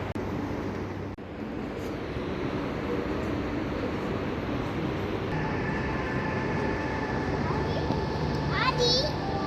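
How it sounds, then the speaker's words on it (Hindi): Haramain high-speed train between Jeddah and Madinah pulling into a station, a steady rumbling roar with a rising whine and a brief high squeal near the end, under a hubbub of voices including children. "ट्रेन आ गई।"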